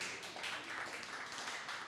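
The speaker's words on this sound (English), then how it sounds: "A round of applause for him." Applause from an evening event audience, a dense steady wash of many hands clapping at moderate distance, sustained evenly and fairly faint.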